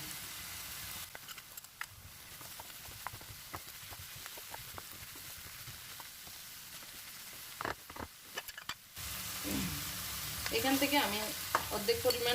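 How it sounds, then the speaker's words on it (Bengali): Chicken pieces for Chinese-style fried rice fry in a pan, a steady crackling sizzle dotted with repeated clicks and scrapes of stirring that grows louder and busier toward the end; no speech. "এখন আমি আমার চিকেনগুলো দিয়ে দিচ্ছি"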